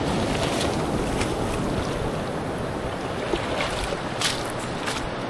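Beach surf as high tide comes in, a steady broadband wash of breaking waves with some wind buffeting the microphone, no voices.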